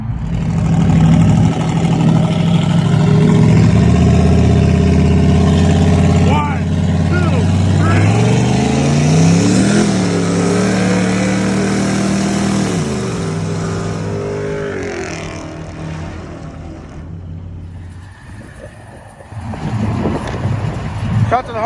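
LS-swapped Chevy S10 truck running without nitrous, engine droning loud and close as it rolls around the block, revs rising and falling in a long pull, with people talking over the engine.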